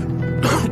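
A man coughs once, a short harsh burst rising over a steady low background hum.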